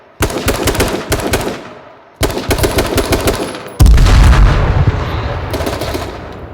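Rapid bursts of gunfire from a shooter video game crackle in dense, repeating volleys, pause briefly, then resume with a heavier, booming stretch of sustained shots close and loud.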